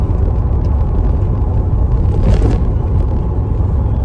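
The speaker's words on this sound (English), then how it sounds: "the exhaust note is you know, really throaty, really racy" A 1986 Renault Alpine GT Atmo's exhaust rumbles deep and constant, a loud throaty drone with road noise, as if heard from inside while driving.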